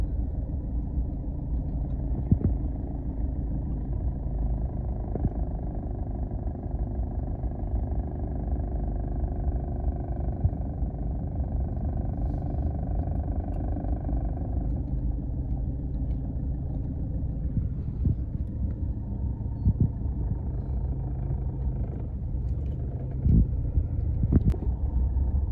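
Decorated procession vehicles at a Bun Bang Fai rocket festival, a steady low engine rumble and drone held throughout at moderate distance with occasional faint knocks and no clear talking.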